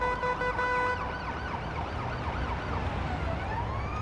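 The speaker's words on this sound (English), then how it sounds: "I did switch my siren to the Ottawa." An ambulance siren set to the Ottawa tone wails continuously, with rapidly sweeping pitch cycles layered over a steady tone that cuts out early on. The siren is loud and close, with a rumbling engine underneath and no talk.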